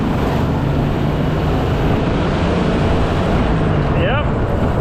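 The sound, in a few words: Jeep CJ7 accelerating at full throttle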